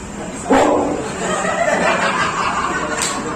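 A man imitates a dog's bark as a loud, explosive burst that sounds like a man sneezing, one sharp onset followed by a noisy trailing tail, with a second brief burst near the end.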